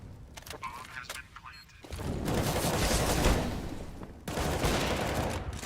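Gunfire during a competitive Counter-Strike match on the Mirage map: a few sharp shots early, then heavy sustained bursts of rapid fire, loud and dense, under a commentator's voice.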